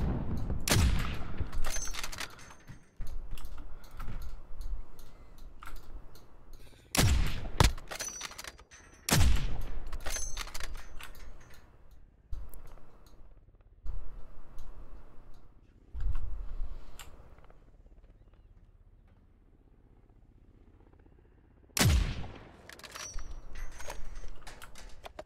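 Gunfire in a plunder match of a shooter video game, sharp bursts and single shots that crack out at irregular intervals between quieter stretches, with occasional clicks.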